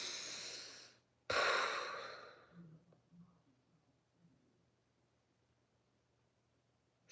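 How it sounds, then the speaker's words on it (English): A deep, loud airy inhale and exhale close to the mic, a long breath drawn in after a short pause and let out slowly into quiet, with a faint low hum underneath. "take a deep breath"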